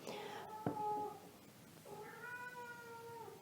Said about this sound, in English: cat is being really, really needy